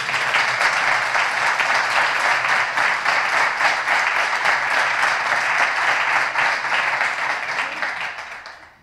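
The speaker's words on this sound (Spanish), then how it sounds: "para ello un fuerte aplauso." A large crowd at a political rally breaks into strong, sustained applause, a thick continuous clapping that holds steady and then fades out at the end, with no talk over it.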